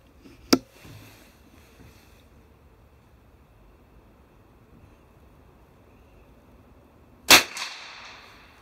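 A .22 LR rifle fired at a target 50 yards away outdoors, two sharp close cracks several seconds apart with quiet between them.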